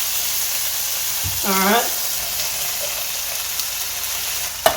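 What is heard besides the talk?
red beans simmering in a pot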